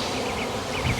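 A honeybee swarm hunkered down on a porch during passing rain fronts hums with a dense, steady buzz that fills the whole second, loud and close with slight swells near the end.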